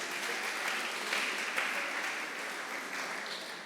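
An audience at a music workshop claps in a brief, steady burst of applause, moderately loud and even, with no clear voices over it.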